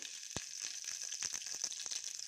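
Mustard seeds, chana dal, urad dal, cumin, fenugreek and curry leaves spluttering in hot oil for a South Indian tempering, a steady close sizzle broken by sharp scattered pops and crackles throughout.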